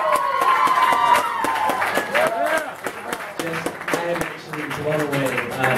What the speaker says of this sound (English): can we just get another round of applause for Sammy Brew?